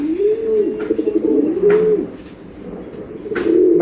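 Racing pigeons coo in rolling, repeated phrases close by, two or three throaty calls with brief pauses between them and no voices.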